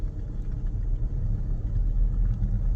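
A car driving along a snow-covered road in Canada, heard from inside as a steady, low road-and-engine rumble that holds even throughout, with no talking.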